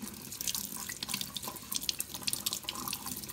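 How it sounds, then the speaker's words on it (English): A sink faucet runs water steadily over a Keurig K-Elite part being rinsed, a soft continuous splashing and trickle close by with no talking. "We're gonna come over to the sink, and we're gonna rinse it for 60 seconds."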